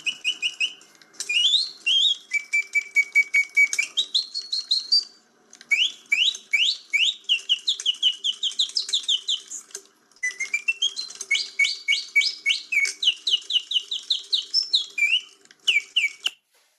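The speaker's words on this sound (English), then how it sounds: "here's a singing bird about 130 years old" Mechanical birdsong from an antique singing bird automaton, about 130 years old, whistles in rapid chirps, trills and rising warbles, loud and close, in several bursts separated by brief pauses.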